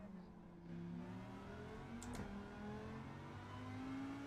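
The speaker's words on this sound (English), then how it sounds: "now I can hear my car" Racing car engine droning and revving steadily in a game, pitch rising and falling as it accelerates, fairly quiet throughout.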